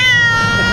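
An angry cat lets out a single drawn-out, harmonic meow close by, loud and strained, with no talking over it.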